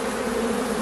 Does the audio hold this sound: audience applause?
no